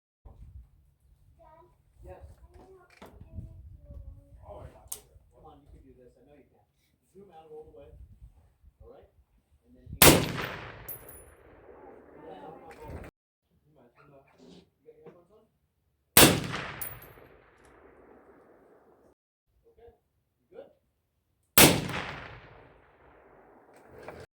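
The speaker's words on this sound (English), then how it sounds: "Let's see how quiet the short configuration is of the Hybrid 46M compared to the long configuration with these Magnum rifles." Three loud suppressed Magnum rifle shots fired through a SilencerCo Hybrid 46M in short configuration, each a sharp blast with a ringing decay, spaced several seconds apart after a stretch of quiet talking.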